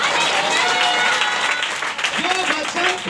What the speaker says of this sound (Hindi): ताली बजा के बोलो।